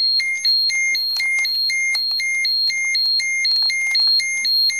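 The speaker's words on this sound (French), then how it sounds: "Et l'alarme s'est déclenchée très rapidement." A Geiger counter's radiation alarm beeps in a fast, regular two-tone pattern, piercing and close, with faint clicks underneath.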